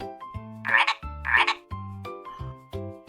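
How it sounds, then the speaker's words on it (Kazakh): A frog croaks repeatedly in deep, throaty bursts, loud and close, with short pauses between calls and no other sounds. "Бұл бақа."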